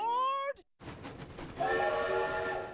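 A cartoon dinosaur train in a children's program blows a loud multi-tone steam whistle, breaks off briefly, then chugs away with rumbling rail noise and a second sustained whistle rising over it.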